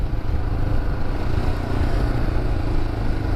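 A Royal Enfield Himalayan motorcycle rumbles steadily while off-roading on a mild green lane, its engine a continuous low, close drone with slight clatter throughout.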